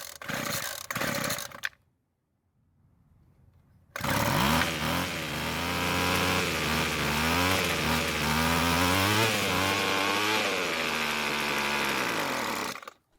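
Rebuilt two-stroke string trimmer engine fires after a short pause and runs loudly for about nine seconds, revving up and down with a buzzing, wavering pitch before cutting out abruptly; brief sputters are heard before the pause.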